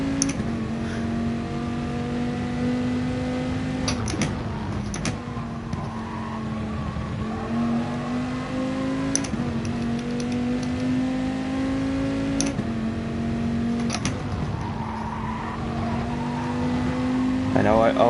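Race car engine in GT Sport at Laguna Seca holds a steady drone with periodic rev changes and occasional sharp clicks, with a voice talking over it throughout.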